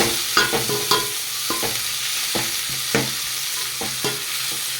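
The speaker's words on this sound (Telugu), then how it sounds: "ఇప్పుడు ఇందులోకి మనం టమాటాస్ వేసుకుందాం." Tomatoes fry with onions in a pan for egg pulao, a steady close sizzle broken by about a dozen stirring scrapes at an uneven rhythm, with no talking.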